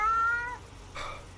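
A cat meow plays as a stream alert during an American Truck Simulator session: two clear meows, the first longer and tonal, then a short second one, loud and alone.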